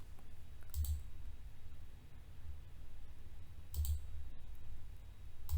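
A computer mouse clicks while a sketch is drawn in FreeCAD. A few sharp, quiet clicks come in small clusters, spaced seconds apart, over a faint steady hum.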